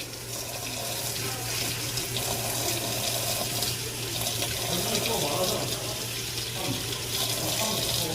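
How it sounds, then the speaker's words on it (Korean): Running tap water rinses dental plaster from a denture flask in a lab sink, a steady close rush of water with no break and no talk. "이제 물로 씻자."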